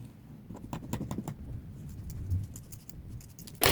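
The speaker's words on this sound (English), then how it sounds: "I'm going to trim it out with my scissors" A series of short, crisp snips of scissors trimming satin ribbon at an irregular pace, close by and fairly quiet, ending with a louder sharper cut.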